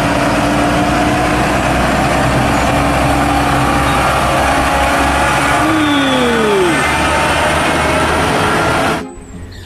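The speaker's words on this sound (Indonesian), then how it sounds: "Di sini ada mobil truk tangki." A toy tanker truck plays a loud, steady rumbling engine sound effect with a brief rising-falling electronic tone near the middle, cutting off abruptly just before the end.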